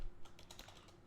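Python code typed on a computer keyboard for a Flask prediction pipeline, a short burst of quick, fairly soft key clicks heard close up with no talking.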